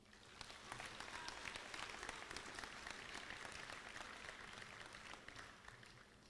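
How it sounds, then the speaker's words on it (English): An audience at a college athletics awards ceremony applauds the nominees, a faint but dense, even round of clapping that swells and then holds steady for several seconds. "Let's give one more round of applause to our nominees."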